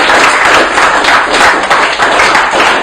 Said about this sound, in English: And a massive round of applause to me.